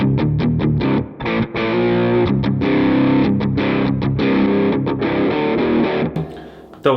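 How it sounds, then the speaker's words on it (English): Electric guitar with a crunchy overdriven tone through a Positive Grid Spark amp plays loud chugging palm-muted chords in a choppy stop-start rhythm with short gaps, then cuts off near the end. "We want to go for like a crunch sound."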